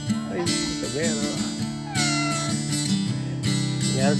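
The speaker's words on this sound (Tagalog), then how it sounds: "Uy, pusa!" A cat meows several times in rising and falling calls over a busy background of voices and engine hum, with people talking throughout.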